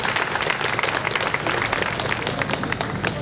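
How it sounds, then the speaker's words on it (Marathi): An audience of women domestic workers at a certificate ceremony applauds for an elder, producing dense, continuous clapping that stays loud and even throughout, with no speech over it. "याच्यासाठी काकासाठी आपण टाळ्या वाजवल्या."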